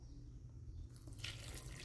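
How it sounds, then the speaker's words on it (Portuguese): About a liter of water pours into a pan for an herbal infusion, a steady splashing and running that swells louder partway through, heard close up with no talk. "Agora vamos colocar 1 litro de água."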